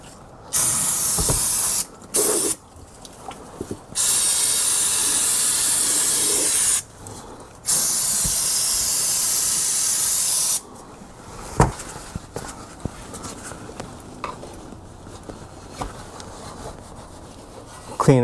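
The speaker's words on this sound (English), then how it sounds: "I'm going to use brake clean." Brake cleaner sprayed from an aerosol can onto an oily car subframe during an oil change: several loud, steady hissing bursts of a few seconds each, separated by short pauses, then quieter rubbing and wiping noises.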